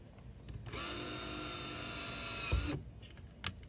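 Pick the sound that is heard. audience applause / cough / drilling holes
drilling holes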